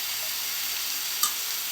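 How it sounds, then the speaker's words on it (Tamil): Onions and tomatoes sautéing in a pan for a snake gourd seed chutney, giving a steady broad sizzle with a couple of faint utensil clinks. "வெங்காயம் தக்காளி நல்லா வதங்கிடுச்சு"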